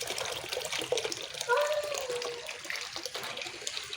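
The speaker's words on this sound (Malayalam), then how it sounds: "മുകളിൽ നിന്നുള്ള വെള്ളം വീഴുക" Water pours and splashes steadily from above, a continuous rushing hiss with a voice briefly heard over it.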